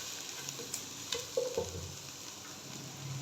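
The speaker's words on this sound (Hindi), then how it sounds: "अदरक को थोड़ा सा कुक करने के साथ ही" Ginger fries in a pan with a soft, steady sizzle, broken by a few light stirring scrapes and clinks, close and quiet with no talk.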